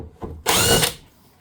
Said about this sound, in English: an impact wrench, which should speed things up